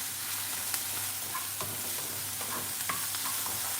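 Onion and mushroom frying in a pan for a braised eggplant dish, a steady close sizzle broken by occasional stirring scrapes and clinks.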